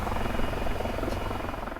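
A helicopter lands on the deck of a Portuguese naval frigate at sea, its rotor thudding in a loud continuous wash.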